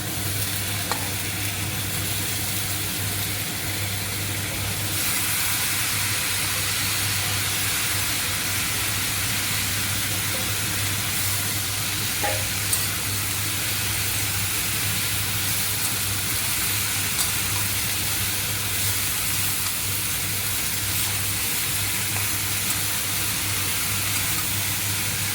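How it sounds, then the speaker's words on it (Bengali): Chopped cabbage sizzling in a hot pan makes a loud, continuous hiss that holds steady throughout, with a low constant hum beneath it and occasional faint clicks, with no voices. "এবার আমি কুচনো বাঁধাকপিটা দিয়ে দিচ্ছি।"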